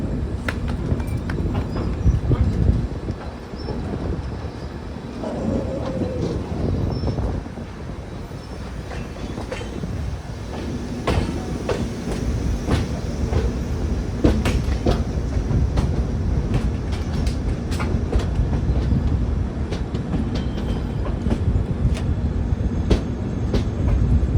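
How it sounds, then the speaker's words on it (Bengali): Padatik Express running on rails near Dum Dum Junction on the approach to Sealdah, a loud continuous rumble with rhythmic clickety-clack of wheels over rail joints, heard from inside the carriage. "আমাদের ট্রেন এই মুহূর্তে স্কিপ করছে দমদম জাংশন একটু পরেই আমাদের ট্রেন শিয়ালদা স্টেশনে ঢুকবে"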